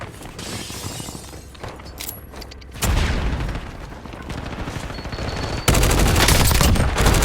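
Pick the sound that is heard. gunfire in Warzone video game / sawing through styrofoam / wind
gunfire in Warzone video game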